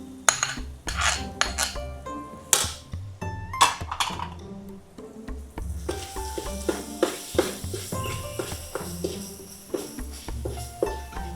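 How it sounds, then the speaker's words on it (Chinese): Curry paste for a jackfruit curry fries in a pan, with a soft sizzle under repeated clattering and scraping as a utensil stirs against the metal, close and busy. "所以现在我们就放咖喱料进来。"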